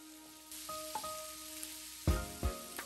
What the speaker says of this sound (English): we're going to fry the lobster in that for just about a minute or two